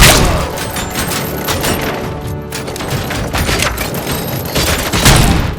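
Gunfire in Robocop: Rogue City during a bank heist mission, with dense, loud volleys of rapid shots and heavy thumps from close range, briefly easing midway before the barrage picks up again.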